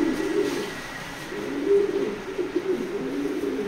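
A pair of checker racing pigeons coo softly and repeatedly nearby, low throaty rolls rising and falling over a quiet background with no talking.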